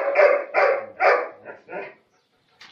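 A dog in a kennel building barks five times in quick succession, loud and close. A short faint sound follows the barks.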